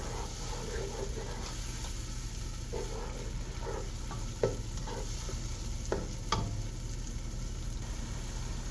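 Nigerian okra soup being stirred in a pot, a soft steady bubbling hiss with occasional spoon knocks and scrapes, moderately faint and without speech.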